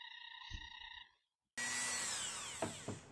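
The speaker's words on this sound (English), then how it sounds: "And steady yourself and get ready for a lot of buffing." A handheld rotary tool buffs a handmade ring, starting abruptly after a short silence into a close, steady high whine that dips in pitch twice under load; a brief hum comes before it.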